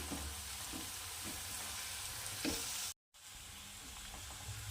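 Coarsely crushed garlic, five to six cloves, sizzles steadily in hot oil in a pan over a low flame for a tempering, with a constant close frying crackle broken by a brief dropout.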